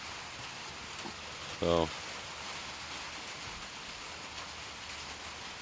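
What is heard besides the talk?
rain starting to fall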